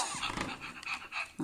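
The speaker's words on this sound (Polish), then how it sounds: "A, jak dyszy." A Fur Fluff interactive toy dog pants in quick, rhythmic breaths, steady and close, with no other sounds.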